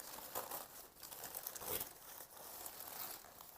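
Paper wrapping around an orchid is crinkled and rustled in soft, close bursts, quiet, with no voice over it.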